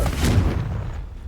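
In Hogwarts Legacy, a Confringo fire-blast spell goes off as a single heavy, booming explosion that hits hard at once and then rumbles away over about a second.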